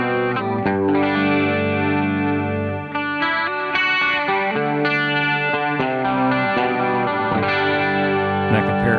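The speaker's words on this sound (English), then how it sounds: "this is a really nice chorus." Electric guitar played through a chorus effect pedal, sustained chords shimmering with a wide, wavering doubled tone, loud and continuous with no talk.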